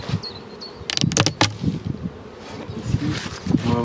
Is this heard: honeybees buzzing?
yes